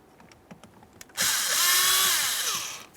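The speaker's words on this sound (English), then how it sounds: "We'll use a Phillips head screwdriver to remove them." A screwdriver backs out the mounting screws on the steering column of a 2005-2010 Chevrolet Cobalt during an airbag clock spring replacement: faint ticks, then a loud, close whirring motor spin that runs steadily for under two seconds before winding down.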